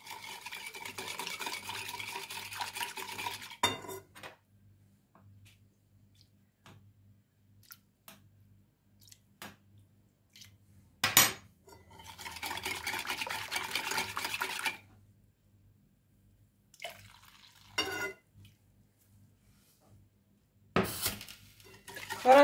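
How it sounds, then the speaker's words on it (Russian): A utensil stirs custard mixture into hot milk in a pot for cream-filled buns. Scraping, clinking strokes come in several close bursts a few seconds long, separated by quiet pauses and single knocks against the pot. "Хорошо перемешиваем."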